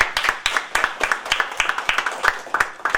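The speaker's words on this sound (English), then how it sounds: "Can we give him a round of applause again, please?" An audience at a public meeting on social services claps in a steady round of applause, many distinct hand claps close by and fairly loud, with no talking over it.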